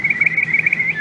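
A person imitates a bird with a high, warbling whistle, chirping in a rapid trill for about a second, loud and close.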